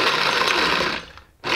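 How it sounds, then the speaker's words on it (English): A blender roughly chopping mint leaves whirs loudly and steadily at close range, then cuts off briefly before starting up again, with no talking. "we're gonna add the mints right into the blender"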